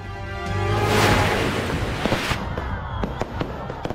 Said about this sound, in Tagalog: Nagliwanag ang kalangitan sa isinagawang Grand Fireworks Display Competition nitong Sabado sa Oroqueta City sa Misamis Occidental.